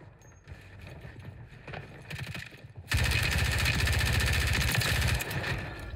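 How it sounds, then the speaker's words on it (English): Footsteps in the video game Warzone come in as a quick, regular run of thudding steps, loud and close after a quieter stretch, over mechanical game noise. "I hear footsteps."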